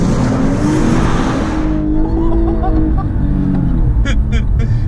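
A loud Lexus LC500h sports car engine roars at high revs, then drops in pitch as the driver lifts off, with a few sharp pops and crackles at the end.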